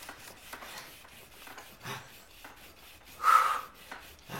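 Pieces of wood are rubbed together by hand to start a friction fire outdoors, giving soft, irregular rasping strokes with a louder scrape near the end, close and quiet with no talk.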